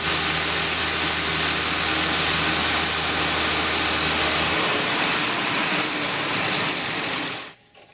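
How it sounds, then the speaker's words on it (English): A 2020 Land Rover Defender P400 petrol engine idles steadily and loudly up close, with a constant buzzing hum that cuts off near the end. "So I'm going to turn on the engine right now"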